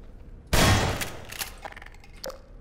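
Single heavy shotgun blast at a lock in Half-Life 2, loud and close with a sharp onset, trailing into a metallic clatter and a few smaller clinks afterward.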